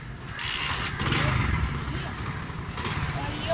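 Motorcycle at a bike service, kick-started so the engine catches with a loud burst and then runs on. Someone talks over it.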